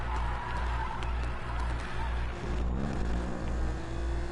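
Racing car in a PS4 video game downshifting and accelerating, a steady droning engine note with regular pulsing low rumble and a brief gear-change dip midway, fairly loud with no talk.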